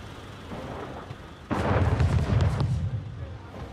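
Ship cannons firing in the naval strategy game Anno 1800, a dense burst of booming shots rolling together for about a second, mid-loud over a low rumbling background.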